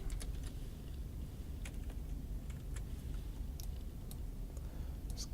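Quiet typing on a computer keyboard, a scattered run of light key clicks over a faint background hum while a part name is entered into an invoice.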